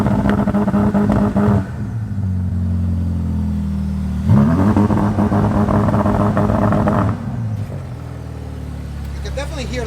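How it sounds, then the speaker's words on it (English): Ferrari 710 HP engine in launch control mode, revving loud and close with valves opening, surging in two strong bursts with a rough mechanical clatter, while people talk over it. "You can definitely hear the valves opening"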